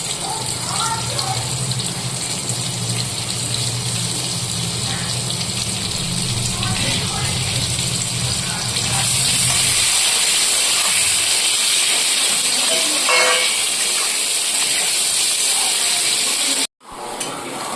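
Chopped onions sizzle steadily in hot oil with bay leaves, chillies and whole garam masala, a continuous loud frying hiss that brightens partway through, with a voice talking over it.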